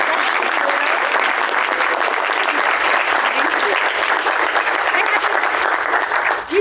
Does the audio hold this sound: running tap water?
no